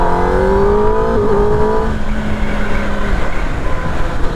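A 2026 Kawasaki ZX-10R motorcycle launches and accelerates hard, its engine note rising steadily and loud before settling into a broad roar.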